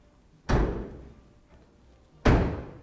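Two heavy slams of the trunk lid on a 1967 Chevrolet Chevelle, each a loud, close thud with a short ringing decay, spaced nearly two seconds apart.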